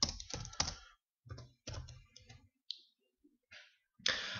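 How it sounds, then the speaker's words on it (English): Bursts of typing on a computer keyboard, quick clicking keystrokes in short runs separated by brief pauses, close and fairly quiet, with no talking. "I'll type in my revalidation."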